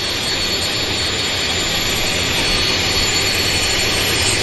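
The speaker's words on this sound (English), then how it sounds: "There's a WestJet turning onto the active" A WestJet jet airliner's engines roar steadily and loudly at Vancouver airport as it turns onto the active runway, a continuous broadband rumble and whine that holds throughout without pause.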